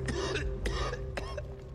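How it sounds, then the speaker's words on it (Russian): A character in the video game I Am Alive coughs harshly in a short burst of two or three rough coughs that sound somewhat distant, heard alone without speech. "А, нет, кашляет еще."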